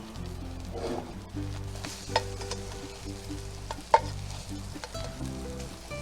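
A slice of Spam sizzles in a pan just after being flipped, a close, steady crackle of frying fat with a few sharper scrapes and pops as it is moved around.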